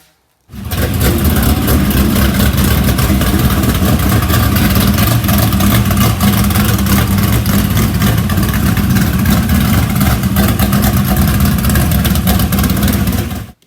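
A dirt race car engine, built for the Bristol Dirt Nationals, runs steadily at a loud, close, sustained rumble that holds an even idle-like drone for the whole stretch before cutting off abruptly.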